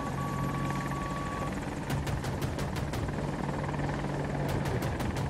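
An AH-64 Apache helicopter in a video game on the Hourglass map, with steady loud rotor and engine drone throughout and a few sharp clicks or shots cutting through near the end.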